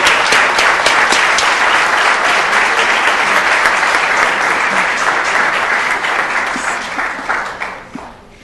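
Loud, sustained applause fills a city council chamber for San Antonio CIF champion young men, steady dense clapping from the crowd that tapers off near the end.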